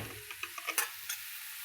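Ridge gourd cooks in a pan with salt and chili powder, a faint, brief run of soft crackles and ticks of gentle sizzling.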